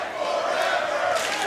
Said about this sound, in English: A fight forever chant from this crowd here in New Orleans.